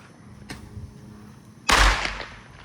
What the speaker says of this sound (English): There's the fireworks right over there.